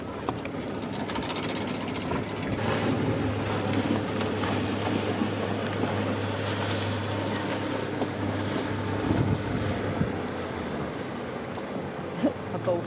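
Outboard engine of a RIB motorboat droning nearby as it pushes a drifting boat off the rocks in a bay, with wind buffeting and water slapping around the hull throughout.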